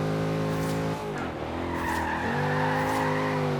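A Mazda MX-5 in Forza Horizon 3 slides as its back end swings out, tyres squealing over a steady engine drone that dips mid-clip and then rises again, loud and close.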